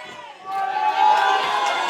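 A crowd at an intergender wrestling match cheers and roars, the noise swelling and holding steady at a loud level for a couple of seconds.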